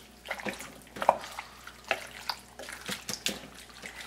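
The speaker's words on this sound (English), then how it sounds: "We're going to stir this all up," Pumpkin chicken chili with chipotle pepper being stirred, wet squelching and scraping strokes in an irregular rhythm, fairly close and soft, with no talking over it.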